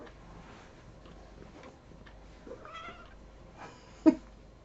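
A house cat meows once, sharp and close, after a stretch of quiet room noise with soft handling sounds.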